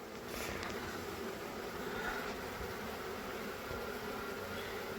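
A honeybee swarm that has just left an apiary hive makes a faint, continuous buzzing hum. It sounds steady and somewhat distant, blended with airy background noise, and no one speaks.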